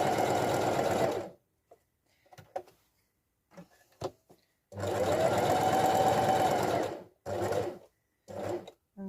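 A sewing machine runs in bursts while stitching straight lines: a long opening run, a longer one in the middle, then two short spurts, each a fast steady mechanical whir, with quiet clicks and handling noises between.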